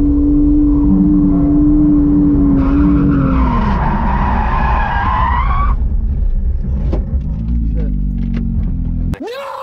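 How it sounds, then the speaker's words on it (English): A Porsche GT3 race car spins out at Buttonwillow after touching the rear on a painted curb, its engine droning loud and close as the tires squeal and skid in a long rising-then-falling screech, ending in a sharp jolt. "I'll show you guys the footage of that little spin out right now."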